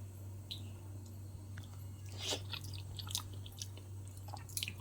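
Soft, close chewing and squishy bites of rice mixed with homemade lemon curry, a few crunchy, irregular mouth sounds over a steady low hum, with no talking.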